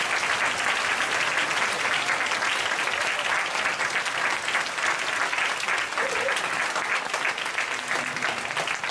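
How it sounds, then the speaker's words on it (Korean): A big church hall full of worshippers at a Friday night service applauds vigorously, a thick unbroken wash of clapping that holds at full strength, with a faint voice briefly audible beneath. "우리 좌우에 있는 분들에게도 한번 큰 힘찬 박수를 격려하겠습니다"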